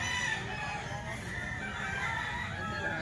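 Roosters crow at a gamefowl seller's place, several birds overlapping in a steady, dense chorus with clucking beneath, moderately near and continuous throughout.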